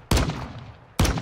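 Two loud, sharp gunshots from the video game Call of Duty MW2 ring out about a second apart. Each blast rings out briefly before fading, with no speech.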